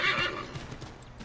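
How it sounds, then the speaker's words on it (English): A horse in Assassin's Creed 3 gives a loud whinny over quick clip-clopping hooves during a ride, close and alone. "Oh, I can spur my horse now. Oh, there's no full gallop."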